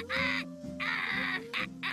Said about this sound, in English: Can you shut this bird up, please?